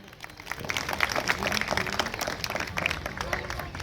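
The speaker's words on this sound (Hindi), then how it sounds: "आप उनके लिए भी तालियां बजाएं।" Audience at a talent honouring ceremony in Tonk claps in a steady mid-distance burst of applause that lasts throughout, with voices faintly mixed in.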